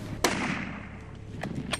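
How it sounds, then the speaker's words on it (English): A single sharp hunting rifle shot at a Cape buffalo on a dangerous game hunt, loud and close, followed by a fading rumble and a couple of fainter cracks or clicks afterward. "You made a good shot there."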